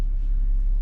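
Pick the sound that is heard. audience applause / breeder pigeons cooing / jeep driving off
jeep driving off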